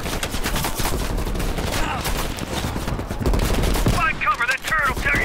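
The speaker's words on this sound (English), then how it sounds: "Find cover, that turret will tear you up!" A turret machine gun fires nonstop in the video game Call of Duty Black Ops Cold War. The dense, loud bursts of gunfire last throughout, and a voice joins in near the end.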